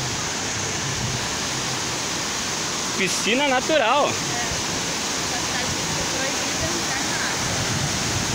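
Waterfall on the Chapecó River at Abelardo Luz, a steady broadband roar of falling water filling the whole scene, with a voice speaking briefly over it midway.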